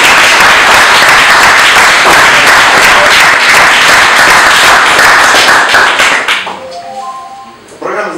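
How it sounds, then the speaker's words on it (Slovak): An audience at a talk show event in Stará Ľubovňa applauds with loud, dense clapping for several seconds before it thins out and fades into quiet, followed by a voice starting to talk. "počujte si asi potlesk"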